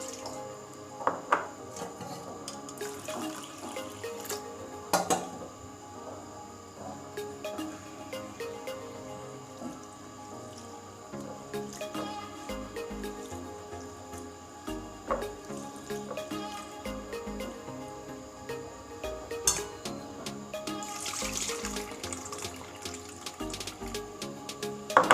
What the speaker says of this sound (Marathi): आज आपण त्याचं स्वच्छ धुवून आणि पुन्हा त्याच्यामध्ये पाणी घालून भिजायला ठेवणार आहे